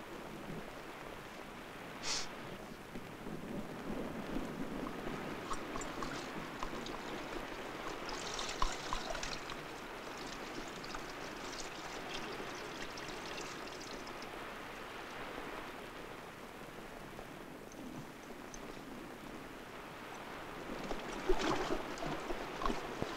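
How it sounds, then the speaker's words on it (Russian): Heavy rain pours steadily in a rural pasture setting, a dense, continuous hiss and patter with splashing water, even in level for over twenty seconds, no voices heard. "Ну и дождь. И когда он кончится?"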